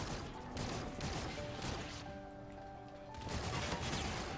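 Rapid bursts of video game gunfire crackle through a busy mix of game sounds and music, with shots clustered in quick volleys over several seconds.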